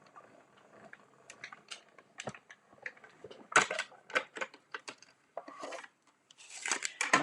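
Paper cranked through a hand-cranked die-cutting machine, a series of close, irregular clicks and ratcheting scrapes with short crinkly bursts and brief pauses between them.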